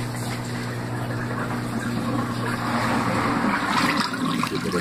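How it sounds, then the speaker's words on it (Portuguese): Water from a compact Laundry Alternative mini automatic washer drains into a sink and through a garbage disposal, a steady rushing, splashing flow over a low mechanical hum, continuous and fairly close, swelling slightly toward the end. "O ruído mais alto é da água caindo na pia e a água passando pelo triturador."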